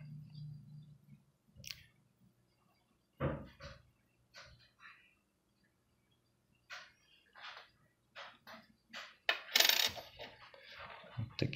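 Coins being unpacked and handled, with scattered light metallic clinks and clicks at uneven intervals, close and fairly quiet, separated by pauses of near silence.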